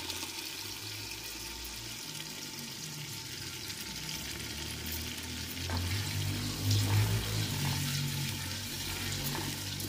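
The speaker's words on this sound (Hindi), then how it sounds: "मसाले के साथ अच्छे से दही को पकाएंगे हम" Yogurt cooks with spice masala in a pan for aloo sohanjna, giving a soft steady sizzle and bubbling with faint stirring scrapes, quiet and close, with a slight swell midway.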